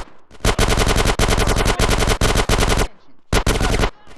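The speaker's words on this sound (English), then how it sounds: "Get some suppressing fire in there." Loud automatic suppressing fire in GTA San Andreas hammers out in long continuous bursts, a short pause, then one more quick burst, close and dominant.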